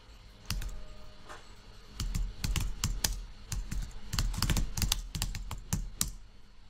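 Computer keyboard typing of a search query comes as irregular bursts of sharp, close key clicks with short pauses between them, clear and alone.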